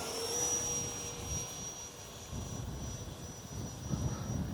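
An FMS 70mm Viper RC jet plane, 15th Anniversary Edition, flies loops and rolls overhead, its electric ducted fan giving a steady, fairly distant whine with a thin high tone and a low rushing drone that swells and fades slightly.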